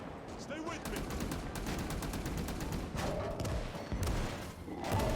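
A World War II game battle at the Battle of the Bulge, a 1944 siege defense of American lines, rattles with steady machine-gun fire and scattered thumping shots, with voices talking over the din.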